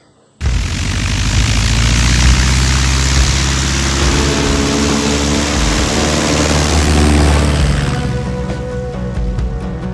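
A RANS S21 Outbound light aircraft's propeller engine runs steadily and loudly, starting abruptly and droning at a constant pitch with a deep rumble throughout.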